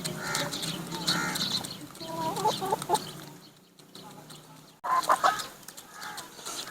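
Hens cluck intermittently at close range, with soft scratching and rustling between calls and a brief quiet stretch in the middle.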